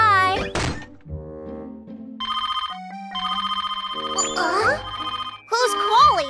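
A cartoon telephone rings with a bright electronic ringtone that repeats in loud tonal bursts, broken by a thud at the start and a voice speaking over the ringing.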